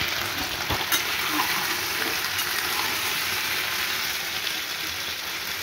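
Food fries in hot oil, giving a dense, even, continuous sizzle at close range with one brief clack near the start, and no talking.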